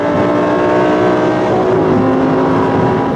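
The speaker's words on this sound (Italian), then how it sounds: "Qua abbiamo il V10 dell'R8." Audi R8 V10 engine roaring at sustained high revs, loud and close with dense harmonic drone and no speech.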